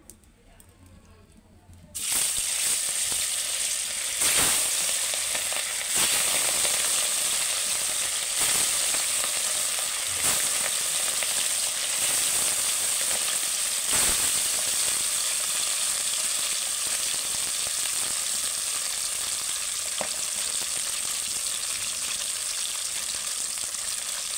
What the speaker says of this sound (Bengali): বন্ধুরা কড়ার তেলটা তেতে গেছে, মাছগুলো তুলে দেবো